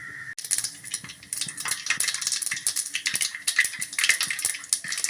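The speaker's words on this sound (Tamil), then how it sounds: "ஒரு டீஸ்பூன் கடுகு சேர்த்துக்கலாம்" Rapid, irregular crackling and popping of mustard seeds sizzling in hot oil, sharp little bursts scattered over a soft frying hiss.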